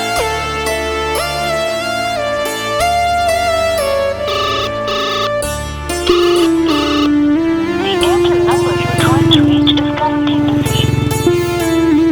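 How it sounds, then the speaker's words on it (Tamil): A phone ringtone plays in a Tamil drama scene, a steady looping electronic melody that rings on continuously and loudly, with no talk over it. "எவ்வளவு நேரமாடா ஒரு ஃபோன் அடிக்கிறது"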